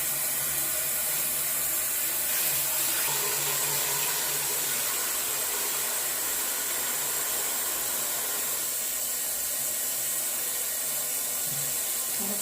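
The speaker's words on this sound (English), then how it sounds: "So make sure you wash it properly so any residue remaining can come out." Water runs steadily from a tap while shampoo is rinsed out of hair treated with plant-based henna. It makes a soft, continuous hiss at low level with no talk.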